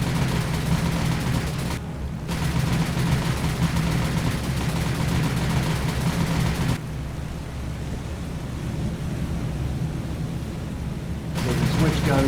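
Ship guns firing in the naval combat game War on the Sea, a dense, continuous roar of loud gunfire broken by short lulls, with a quieter, rumbling stretch in the middle before the barrage picks up again.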